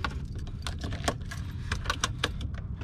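A key for a 2025 Tata Tiago XZ+ hatchback handled inside the car, with light metallic jangling and clicks scattered over a steady low rumble of cabin background noise.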